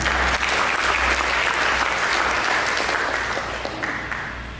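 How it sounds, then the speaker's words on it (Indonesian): Church congregation applauding, a dense, even wash of many hands clapping that fades slightly toward the end. "Mari kita tepuk tangan."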